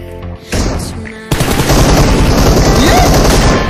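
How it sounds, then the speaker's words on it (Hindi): Loud, dense video game gunfire: rapid overlapping shots and booms that start abruptly, surge after a brief lull, then hold as a continuous close barrage. "वो देखो वो कहां गोली चला रहा है"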